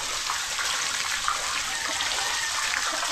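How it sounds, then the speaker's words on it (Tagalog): Strong water from a well gushes steadily while laundry is rinsed, a continuous close, loud rushing and splashing with no talk. "Malakas yung tubig namin. Tingnan nyo naman po. Malakas yan."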